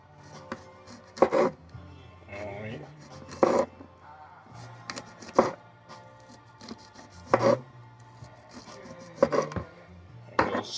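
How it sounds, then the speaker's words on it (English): A knife slices portobello mushrooms thinly on a board, six distinct crisp chops spaced about two seconds apart, close and clear over a quiet background. "This portobello mushrooms right here. So cut it kind of thin."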